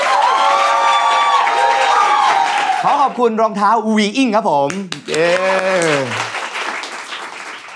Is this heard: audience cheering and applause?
yes